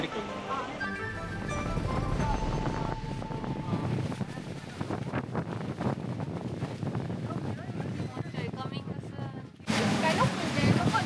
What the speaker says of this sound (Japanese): 風やばいし